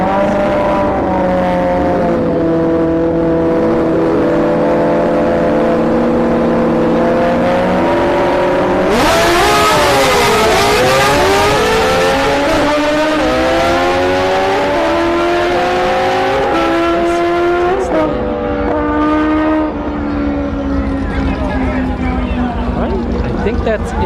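Nitrous-fed Suzuki Hayabusa and GSX-R street motorcycles race down a no-prep drag strip. Loud, wailing engines climb through repeated rising gear pulls, with a sudden harsh roaring burst midway, over constant open-air track noise.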